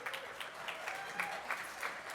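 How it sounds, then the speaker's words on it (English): Dinner audience at a summit applauds a committee member: a soft, steady patter of many hands clapping at a distance, faint and continuous throughout. "you can clap"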